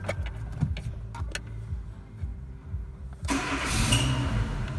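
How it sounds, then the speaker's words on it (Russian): A 2001 Renault Megane 1.4 injector petrol engine (K4J) with a five-speed manual cranks with a few clicks and rattles, then catches and runs loud and close, its idle wavering unevenly after starting. "Заводится хорошо, плавает оборот."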